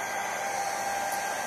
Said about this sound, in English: So I have a little heat box here with a blow dryer.